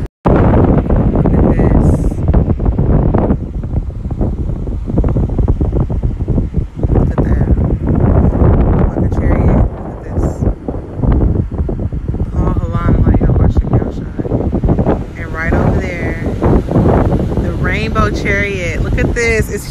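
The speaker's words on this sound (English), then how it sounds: "windy right now." Strong outdoor wind buffets the microphone in loud, continuous roaring gusts that swell and dip for the whole stretch.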